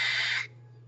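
Vapor is drawn hard through a Maxo V12 sub ohm tank, a loud close airy hiss lasting under half a second that cuts off abruptly, leaving a low steady hum.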